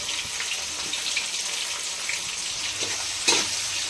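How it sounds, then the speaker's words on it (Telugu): Sliced onions, green chillies and curry leaves fry in hot oil for a beef curry, giving a steady, fairly soft sizzle with faint crackles and one brief louder spatter, with no talking. "ఉల్లిపాయ పచ్చిమిరపకాయ వేయించుకునేటప్పుడే మనం కరివేపాకు కూడా వేసుకోవాలండి. వేసుకొని బాగా వేయించుకోవాలి."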